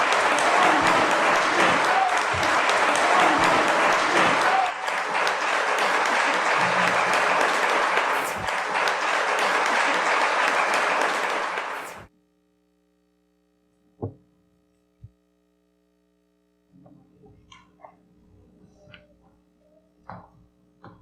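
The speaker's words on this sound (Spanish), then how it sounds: "Un fuerte aplauso nuevamente." Audience applause at a forum for the Mexican Electricians' Union, a loud sustained burst of clapping for about twelve seconds that cuts off abruptly, followed by near silence with a few faint knocks.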